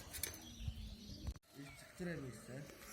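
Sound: racing pigeons cooing as they land

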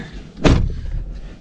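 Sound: truck door closing

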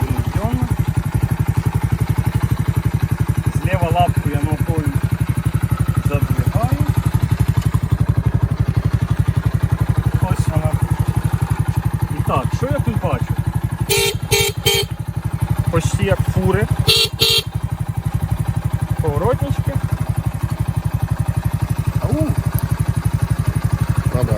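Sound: Spark SP110C-2C motorcycle engine running after ignition

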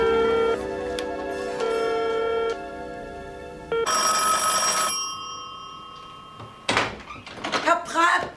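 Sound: telephone ringing

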